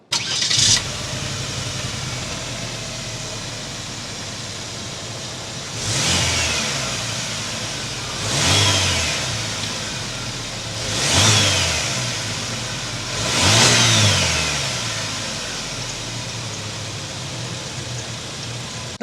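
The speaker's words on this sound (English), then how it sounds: "start it up so you can hear that exhaust note." A 2023 Buick Envision Avenir's 2.0L turbocharged four-cylinder starts with a brief catch, then idles steadily with the exhaust note. Four separate revs swell and fall back at roughly even intervals, close and fairly loud, with no talking.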